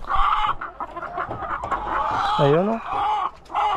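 A hen clucks and gives a rising squawk nearby as her warm egg is taken from under her, while a person talks over the clucking.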